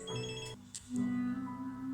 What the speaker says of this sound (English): phone's ringing, I've got to answer it